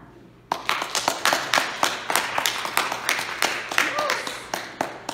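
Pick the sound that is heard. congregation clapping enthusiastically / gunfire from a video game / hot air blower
congregation clapping enthusiastically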